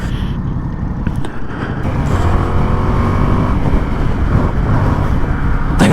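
A 2024 Yamaha MT-07 motorcycle engine revving while riding, a loud, close, rising engine drone mixed with rushing wind, building steadily after a brief dip.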